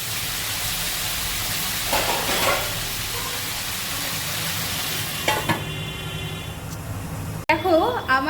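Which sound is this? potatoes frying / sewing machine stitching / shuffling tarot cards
potatoes frying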